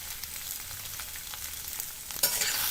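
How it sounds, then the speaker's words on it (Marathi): Diced potatoes sauté in hot oil over a tempering of cumin, green chillies and ginger, a steady close sizzle and crackle that swells into a brighter burst near the end, with no talking. "दोन तीन मिनिटे परतून घेऊया"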